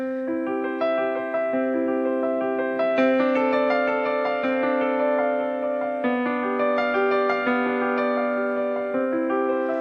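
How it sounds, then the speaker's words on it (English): Yamaha Clavinova CVP digital piano playing a high-definition 9-foot concert grand sample: sustained chords and melodic notes with a rich, resonant grand piano tone, clear and unaccompanied. "high-definition recording of a 9-foot concert grand"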